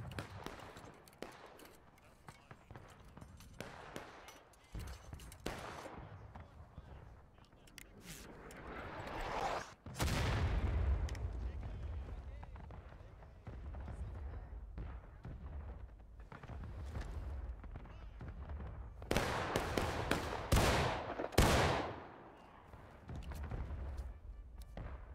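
Musket volleys crack and boom from soldiers in a video game line battle, mixing scattered single shots with heavy bursts. The loudest clusters fall near the middle and toward the end, over a low rumble with no speech.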